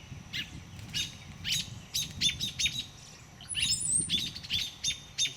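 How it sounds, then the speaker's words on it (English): Small birds chirp in a nest, a string of sharp, high tweets in quick irregular bursts, fairly close and clear over quiet background. "I hear other birds in the nest."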